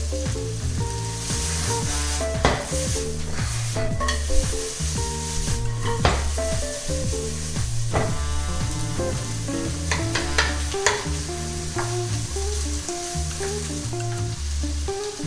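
Sliced vegetables for a keto chicken stir-fry sizzle steadily in a hot pan, a loud, continuous close-up crackle broken by scraping stirs and clanks of utensil on pan.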